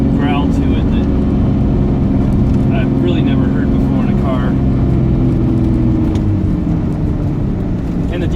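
Lamborghini Diablo engine gives a deep, steady low growl from inside the car, droning continuously beneath a person talking.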